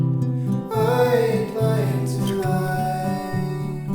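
Guitar music played inside the fishing game Webfishing: a bright plucked melody over a steady, rhythmic low accompaniment, clear and continuous with no talking.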